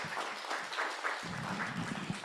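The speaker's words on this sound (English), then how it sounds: "Can we have a round of applause for this group?" Workshop audience applauding a presenting group: continuous, fairly even clapping from a room of people, moderately loud and sustained throughout, with no voices over it.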